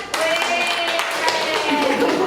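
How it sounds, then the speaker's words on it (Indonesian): Students in a classroom clap briefly, a short burst of scattered hand claps that blends with voices in the room. "Oke, tepuk tangan."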